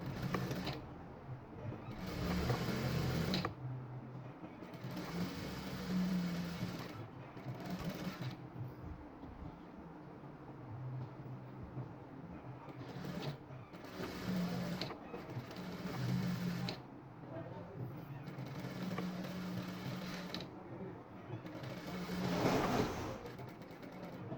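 A sewing machine stitches a round seam in fabric with half an inch of extra cloth left, running in several bursts of steady mechanical whirring separated by short pauses, fairly close and with no talk.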